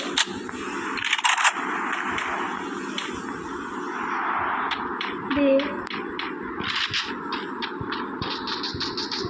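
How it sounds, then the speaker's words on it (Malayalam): Gunfire in the Free Fire Max video game comes as rapid bursts of sharp shots, some near and some far, over continuous game background noise, with a person talking at times. "വെടി വരുന്നുണ്ട്."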